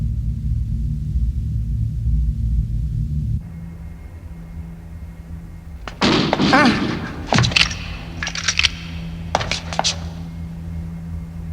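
Gunfire in an animated Cyber City action scene comes as sharp, booming shots in two close bursts over a low rumbling background, with short gaps between the shots.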